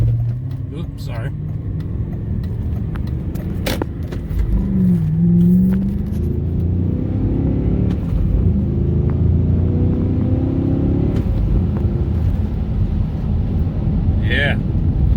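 A 2003 BMW M5 with a muffler delete drives on the road, its engine rumbling loud and close and revving up through the gears in a steady roar, with the occasional faint voice underneath.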